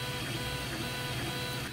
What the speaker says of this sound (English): the 3D printer.